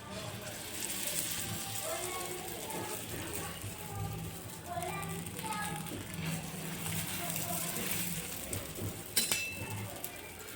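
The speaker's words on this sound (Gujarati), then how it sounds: "દાબેલી શેકવા એક લોઢીમાં થોડું તેલ નાખીશું અને દાબેલી મૂકી દઈશું" A dabeli bun fries in oil on an iron griddle over a low flame, a steady soft sizzle with a faint clink near the end, under a voice speaking.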